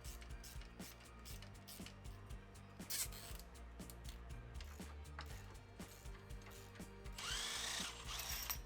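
A power tool spins off 12mm bolts holding brackets during a radius arm install on an off-road vehicle, running in short repeated bursts with ratcheting clicks, and a higher whine near the end.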